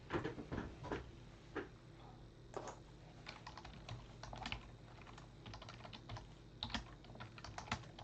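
Bursts of keystrokes on a computer keyboard, irregular clusters of quick clicks separated by short pauses, close and fairly quiet throughout.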